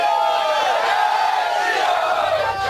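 Mob crowd at a school in Madhya Pradesh chanting Jai Shri Ram slogans, a dense, continuous roar of many voices with no let-up across the clip.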